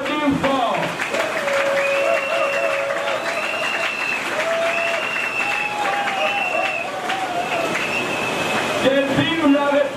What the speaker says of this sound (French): Que je vous demande d'applaudir fort.